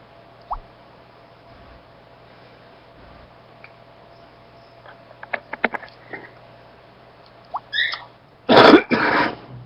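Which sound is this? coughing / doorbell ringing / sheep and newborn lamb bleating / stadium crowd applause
coughing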